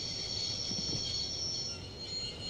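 A train in the point-and-click adventure game Broken Sword rumbles along as a steady, close mechanical drone, with a sustained high whine running over a low rattling rumble and no talking.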